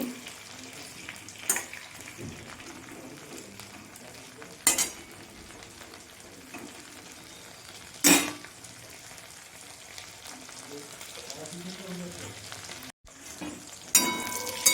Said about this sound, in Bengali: চিংড়ি মাছ বেশি কড়া করে ভাজলে শক্ত হয়ে যাবে। আমি অল্প একটু করেই ভেজে নেব।